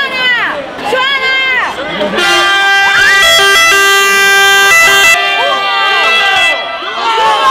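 A fire engine's loud wailing siren sweeps up and down close by, holding a steady blaring tone at times, with people talking and cheering around it.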